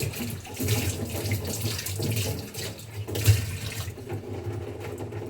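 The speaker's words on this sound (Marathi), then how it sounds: "आता मटकी विजायला टाकते, म्हणजे उद्या सकाळच्याला काम येईल, मोडं येतील संध्याकाळी." Water runs from a tap and splashes into a vessel of moth beans set to soak for sprouting, a steady close rush throughout, no voices.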